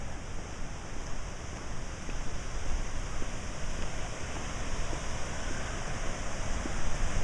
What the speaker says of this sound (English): Here comes another wind gust.